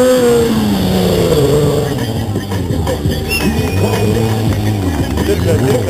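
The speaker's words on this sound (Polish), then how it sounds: "on po prostu lata na tym motocyklu" Stunt motorcycle at a stunt show event, its engine revving and sweeping up and down in pitch, loud and close, under an announcer's excited commentary over a PA.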